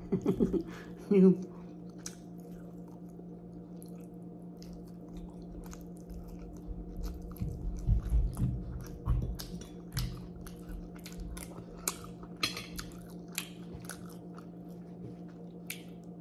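Someone chews pancit canton noodles with fishball, shrimp and quail egg close to the microphone, making soft wet mastication and occasional faint crunches over a low steady background hum.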